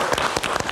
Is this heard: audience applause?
yes